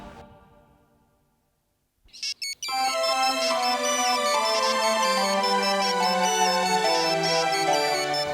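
A phone rings with a loud, continuous tonal ringtone melody that starts abruptly after a short fading tone and near-silence, playing steadily at close range in an indoor scene from a Hindi TV serial.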